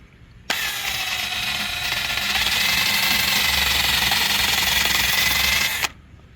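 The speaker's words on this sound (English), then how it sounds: "Little wire brush on the end of a cordless drill." A small wire brush spun by a cordless drill scrubs grout off a natural stone veneer wall, giving a steady loud whirring grind that starts abruptly, runs about five seconds without a break, then cuts off.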